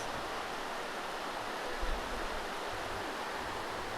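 A river along the Upper Salmonberry River Trail flows steadily, a loud, even wash of rushing water that fills the whole clip without pause.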